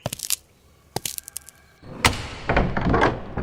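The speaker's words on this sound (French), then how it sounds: "Oh, la porte s'est ouverte." A key rattles and clicks in a door lock in several sharp metallic taps, then the door opens with a loud crack and a longer creaking, rustling swing, close and without talk.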